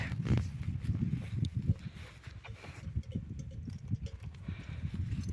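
Mare's hooves clip-clopping at a walk nearby at a rural horse show, a steady rhythmic beat of low thuds over soft outdoor rustling.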